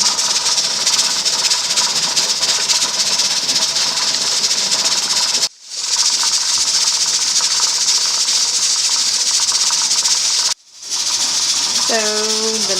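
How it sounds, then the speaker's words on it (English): Stovetop pressure canner processing pulled pork, its weight jiggling and venting a steady, loud broadband hiss of steam that cuts out briefly twice, with a short pitched whistle-like tone rising near the end. "you would know if it's going too low if it's not rocking anymore and making that steam and jiggle noise"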